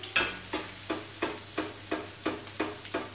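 Matlouh bread dough frying in oil in a Kabyle home kitchen, with a steady sizzle broken by about eight evenly spaced, close, moderately loud scraping stirs.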